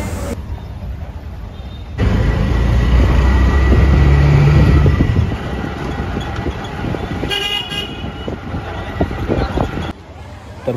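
Riding in an auto rickshaw brings a constant engine rumble and road noise, a louder stretch early on, and several short horn toots from traffic around, with no clear talk.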